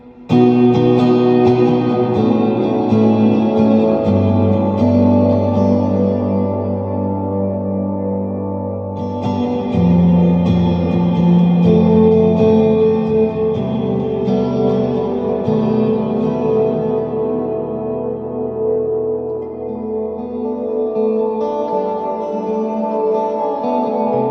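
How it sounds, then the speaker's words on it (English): An electric guitar plays through an Electro-Harmonix Oceans 3-Verb pedal with its plate reverb turned all the way up, giving loud sustained chords with a heavy wash of reverb tail that swells and lingers. No one speaks. "Finally, plate reverb, full."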